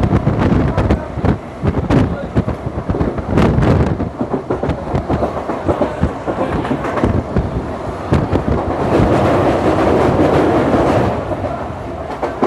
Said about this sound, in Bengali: আমাদের ট্রেন তার নির্দিষ্ট সময় 12:50 আহমেদপুর জংশন থেকে কাটোয়ার উদ্দেশ্যে রওনা দিল